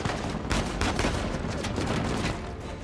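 Gunfire in the video game Uncharted 4: a dense, loud fusillade of rapid shots and bursts crackling continuously for a few seconds, with no talk.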